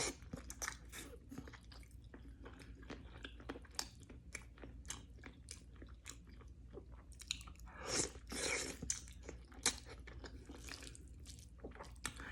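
Close, steady chewing and crunching of pork adobo with potatoes in a mukbang, with moist smacking bites repeating throughout, fairly quiet and with no talking.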